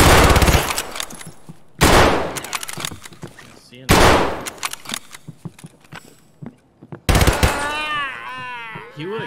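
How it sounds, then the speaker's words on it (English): Loud gunshots from a Mosin rifle in the shooter game Escape from Tarkov, three sharp reports spaced about two seconds apart, each followed by a decaying echo, with a voice talking near the end. "I just shot a dude three times with a Mosin"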